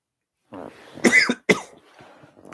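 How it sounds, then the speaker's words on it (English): A single close, raspy cough in two bursts, loud against an otherwise quiet background. "Damn, tickly cough."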